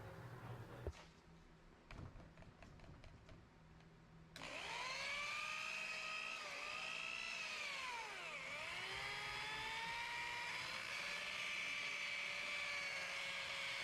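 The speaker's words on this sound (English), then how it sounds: "They want you to work your polisher with the compound in between 1000 and 1500 RPM." Rotary polisher with a wool pad working compound on car paint, a few short bursts at first, then a steady loud whine that rises and falls in pitch as the pad presses against the panel.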